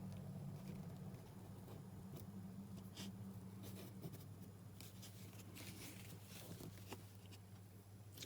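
A pencil or pen drawing lines across a paper pocket template in a craft setting, a faint steady scratching with brief strokes and pauses, close and quiet, with no talking.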